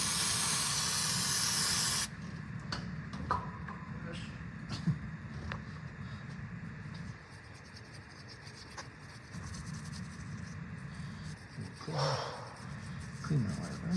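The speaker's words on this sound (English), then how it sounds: "Brake clean." Brake cleaner sprays in a loud, steady hiss from an aerosol can for about two seconds at close range, then gives way to quieter shop noise and scattered scraping while work continues on the front axle of a Prevost RV bus conversion.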